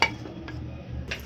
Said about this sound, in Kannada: ಇದನ್ನು ಕೂಡ ಒಂದು ಪ್ಲೇಟ್ಗೆ ಹಾಕ್ಕೊಂಬಿಡೋಣ.